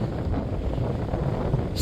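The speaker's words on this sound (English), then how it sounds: "It's getting a little cold, it's getting a little windy." Wind blowing outdoors on a cold, windy walk, a steady low rumbling buffet across the microphone with no voices.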